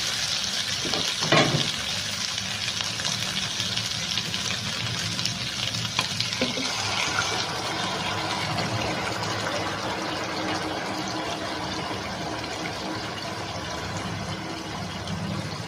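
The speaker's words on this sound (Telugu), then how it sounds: "ఇప్పుడు మనం వాటర్ వేసేసుకుందాము" Water is poured into a pot of lightly browned chicken for a chicken pulao, producing a continuous, fairly close splashing rush mixed with faint sizzling throughout.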